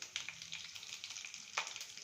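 Curry leaves hit hot oil in a Gujarati dal dhokli tempering that already holds mustard seeds, cumin and green chillies, giving a steady close sizzle with two sharper spitting bursts.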